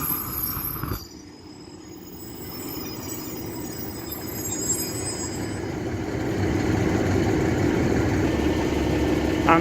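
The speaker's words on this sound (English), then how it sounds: "coming in down there is the delayed 1555 Northern service to Blackburn" Northern passenger train to Blackburn pulling into Castleton station: a steady, building rumble of wheels and engine with faint wheel squeal, growing louder over the length, with no talk.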